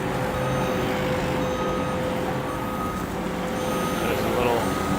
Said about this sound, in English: that's what that beeping is. It's backing up.